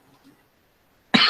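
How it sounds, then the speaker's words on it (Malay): A single sharp cough bursts out near the end after a stretch of near silence, loud and close, during a classroom lesson. "Batuk."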